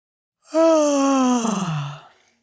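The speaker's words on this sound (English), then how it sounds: "She gives a yawn" A woman's drawn-out yawn, a single close vocal sweep that starts strong and slides lower in pitch, fading out after about a second and a half with no other sound.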